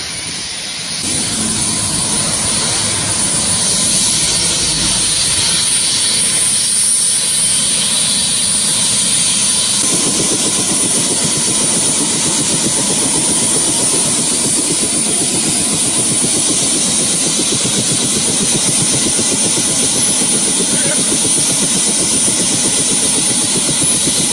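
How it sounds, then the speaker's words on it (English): A helicopter that has just landed with supplies keeps its engine running for about twenty-four seconds. The turbine whine and rotor roar are loud, close and continuous, with a low rhythmic beat underneath and no speech. "we've got a helicopter that just landed with supplies"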